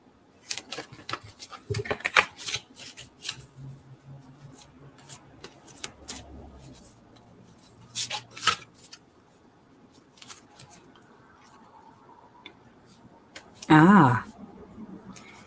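A deck of tarot cards is shuffled by hand in scattered bursts of crisp flicks and riffle snaps, separated by quiet pauses, with a final louder flurry near the end and a voice faintly present at times.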